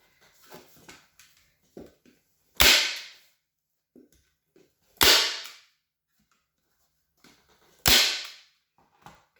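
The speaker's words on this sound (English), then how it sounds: "And we'll get our staple gun." A staple gun fires three sharp, loud snaps a few seconds apart as fabric is stapled onto a foot stool, with soft handling noises of the material between shots and no talking.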